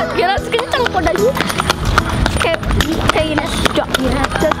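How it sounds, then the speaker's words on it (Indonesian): Horse being ridden, hooves clip-clopping in a steady running rhythm, close by, with people talking and a whinny-like sound over the hoofbeats. "jadi dengerin suara kudanya. Itu tandanya dia mau kenceng."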